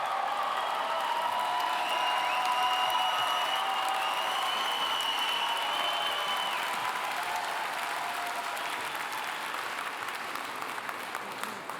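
Sustained audience applause fills a commencement ceremony hall, a dense steady wash of many hands clapping at even loudness throughout, slowly thinning toward the end, with no talking.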